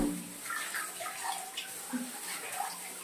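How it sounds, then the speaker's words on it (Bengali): Water splashes and drips as freshly dyed jeans are lifted and wrung out by gloved hands, a steady wet trickle and patter running through the whole stretch with no voices. "এবার এটাকে একদম ভালোভাবে তুলে নিচড়ে নিয়ে জলটা ঝাড়াতে দেব।"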